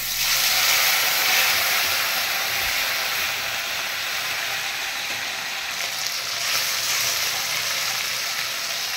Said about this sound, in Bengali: শুকনো লঙ্কা শুধু তেলে দিয়ে এবার আমি দিয়ে দেবো পেস্ট করে রাখা মশলাটা।